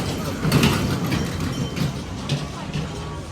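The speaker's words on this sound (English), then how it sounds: "I got a train." A train rolls past an outdoor shopping area with a steady rumble and faint clickety-clack, while people talk over it.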